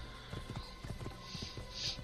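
Horse hooves clip-clopping in Assassin's Creed, a quick, regular trot of close, clear hoofbeats running the whole time, with no talk over them.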